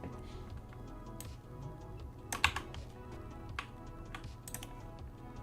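Keys on a computer keyboard clatter in irregular bursts of quick, close taps, with a few sharper louder strikes, over a faint steady background hum.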